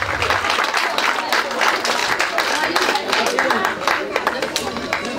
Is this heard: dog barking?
no